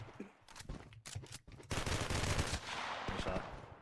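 Rapid automatic fire from an MP7 in the shooter game ShatterSight, dense bursts of shots and impacts at close range, loud and sustained with little pause.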